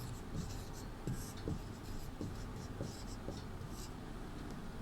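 Chalk or marker scratches across a classroom board in short, quiet strokes with brief pauses between them, faint and close against a low room hiss.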